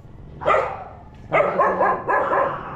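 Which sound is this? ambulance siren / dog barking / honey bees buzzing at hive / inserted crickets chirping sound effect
dog barking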